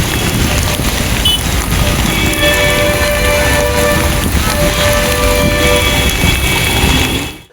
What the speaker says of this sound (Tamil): திருத்தணி, திருவள்ளூர், மதுராந்தகம் ஆகிய பகுதிகளில் 1 மணி நேரம் மழை வெளுத்து வாங்கியது.